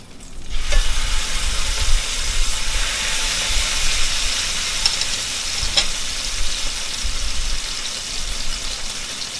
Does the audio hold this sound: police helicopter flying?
no